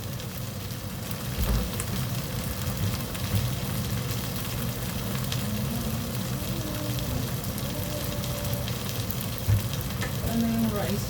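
Pork and garlic fry steadily in a pan, a continuous close sizzle with occasional stirring scrapes and a few faint voice murmurs underneath.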